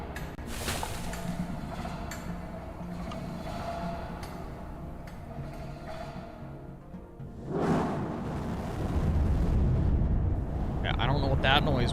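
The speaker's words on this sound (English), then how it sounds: "Oh, it's our starship taking off." A starship launches in a city-building video game, a loud, building rumble that swells partway through and stays heavy to the end, mixed with game music and effects while a person talks over it.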